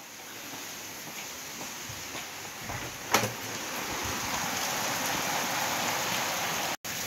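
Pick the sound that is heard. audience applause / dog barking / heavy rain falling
heavy rain falling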